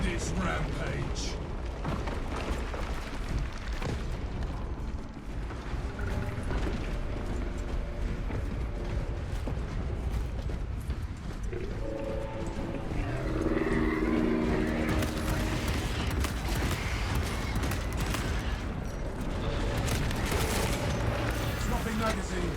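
Heavy cannon fire and rolling explosions in Warhammer 40,000: Space Marine 2 as Space Marines fight a towering Tyranid, a continuous loud barrage of booms and gunfire with layered game audio throughout.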